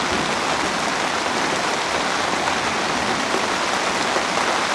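Heavy rain pounds a pop-up camper and its canopy in a dense, steady roar of drops that stays loud and even throughout, with no voices.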